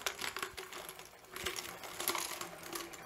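Spent brass cartridge cases poured slowly from a dry tumbler into a mesh sieve over a 5-gallon bucket, giving a steady, dense metallic rattle and clinking that rises and falls throughout.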